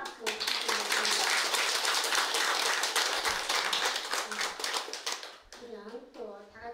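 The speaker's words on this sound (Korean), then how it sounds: "귀한 거룩한 말씀을 해주신 주지스님께 다시 한번 큰 박수 부탁드리겠습니다." Applause at a Buddha's Birthday ceremony at a Korean temple, dense clapping for about five seconds that fades out, followed by a voice speaking.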